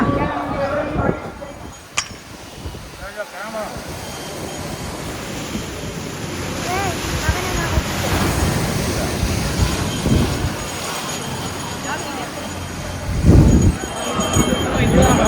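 Sea waves wash in at Tiruchendur beach with a constant broad rushing surf, while people talk in Tamil over the roar.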